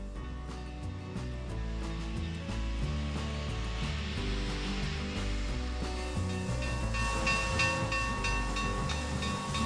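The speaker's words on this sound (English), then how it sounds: "The sudden rush of steam looks like a magical cloud the engine rides on." Union Pacific 3985 Challenger steam locomotive rumbles nearby with rhythmic chuffing beats, while a broad rush of hissing steam swells louder in the later seconds.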